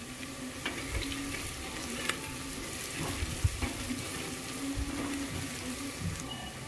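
Turmeric, red chilli and Kashmiri chilli powders fry in a pan for dhaba-style rajma, a soft steady sizzle with intermittent spoon stirring clinks and scrapes, moderately quiet, no voices.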